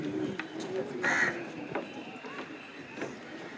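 Birds call in the background on the elevated nature trail at Malabar Hill, Mumbai, with crows cawing a few times at irregular intervals over steady outdoor noise.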